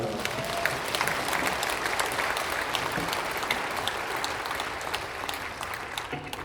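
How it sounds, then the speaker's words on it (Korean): A church congregation applauds at an Easter dawn service, steady dense clapping from many hands continuing throughout without talk. "박수합시다."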